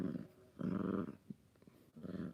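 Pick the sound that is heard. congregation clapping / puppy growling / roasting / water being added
puppy growling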